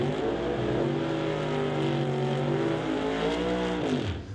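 An S10 pickup and a Ford Mustang roar down a drag strip at a no-electronics drag racing event, loud sustained engine drone with rising and falling pitch, no voices.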